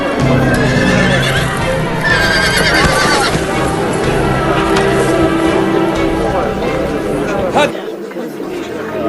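An untamed horse whinnies loudly and repeatedly amid clopping hooves and a chattering crowd, in a dramatized historical scene; the noise runs almost without pause before dropping off near the end.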